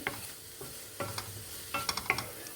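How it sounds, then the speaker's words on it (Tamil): Spices for paneer butter masala sauté in a pan, with soft scraping stirs and faint sizzling in short, irregular bursts, fairly quiet and close. "இது கொஞ்சம் நல்லா வதங்கட்டும்."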